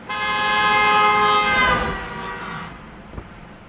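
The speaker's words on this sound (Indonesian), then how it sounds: "muncul sebuah mobil yang membunyikan klakson dengan lantang" A car horn honks loudly in one long, sustained blast that drops in pitch and fades as the vehicle passes, ending in near quiet.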